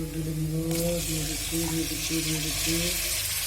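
Chopped tomatoes tipped into a pan of spiced onions frying for an egg curry, giving a steady close sizzle with stirring and scraping, and a voice talks over it throughout.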